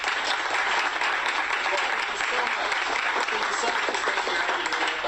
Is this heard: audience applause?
yes